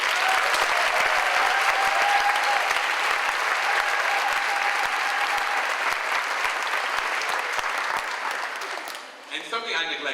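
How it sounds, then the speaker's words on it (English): Steady applause from a large audience at a 2012 MLK convocation at Augsburg honors the award recipients, a dense wash of claps lasting nearly ten seconds before tapering off into scattered claps. "And to our recipients, another big round of applause,"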